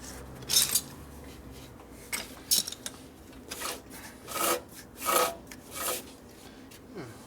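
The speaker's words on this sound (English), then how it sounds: "Chain guard rubs a little bit." A loose chain guard rubbing on a 1972 Harley-Davidson 1000cc Ironhead Sportster during a rebuild, heard as repeated close scraping and grinding strokes in an uneven rhythm over a quiet workshop background.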